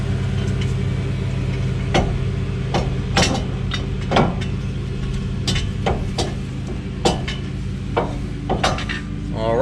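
Metal parts clink sharply and repeatedly as new greased hub splines are worked into alignment on a 2004-2015 Nissan Titan front hub, over a steady low hum.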